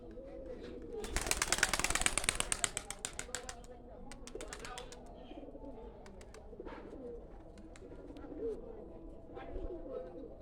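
A weakened pigeon being released coos softly, with a burst of wingbeats and rustling early on, followed by scattered low coos and clicks while people talk nearby.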